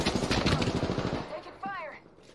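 Rapid bursts of gunfire from the Apex Legends video game crackle loudly for over a second, then fade into quieter game sounds while players talk over the action.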